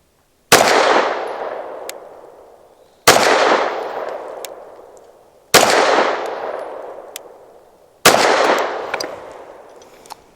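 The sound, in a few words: Bersa M2XI pistol gunshots firing Winchester ammunition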